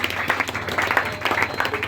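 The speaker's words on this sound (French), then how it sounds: "Est-ce que tu peux applaudir le Seigneur?" A church congregation applauds at a French-language worship service, a dense steady wash of many hands clapping that fills the room, with voices faintly mixed in.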